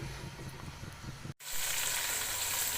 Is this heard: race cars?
no